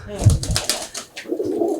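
A pigeon gives a short, soft throaty coo close by, with a voice talking around it.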